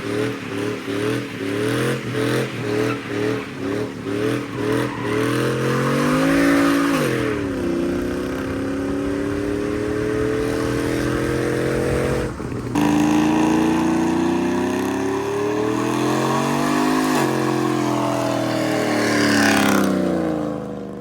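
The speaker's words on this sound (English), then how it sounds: "Mitch wants to blow some donuts" A cammed Chevrolet Silverado with full exhaust and a Speedy Smooth muffler does donuts, loud and close: choppy rhythmic idle pulses give way to long rising and falling revs with sustained high-rpm roaring.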